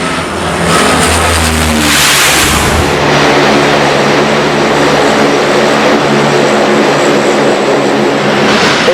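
A jet aircraft roars in loud and close while landing on a US Navy aircraft carrier, its engine noise swelling then holding as a broad, steady rush.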